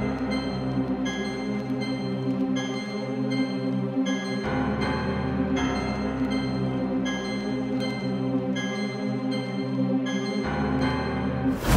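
A Chicago drill beat with piano and a main melody drenched in reverb, steady and loud, with a few abrupt section changes and no voices.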